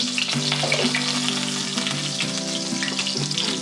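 Schnitzel frying in a pan, a loud, dense, unbroken sizzle of hot oil close up, steady throughout with faint bubbling tones.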